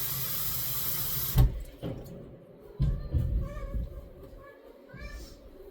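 Fresh water runs steadily from a tap into a container for about a second and a half, then stops, followed by clunks and handling noises with a cat's faint meows nearby.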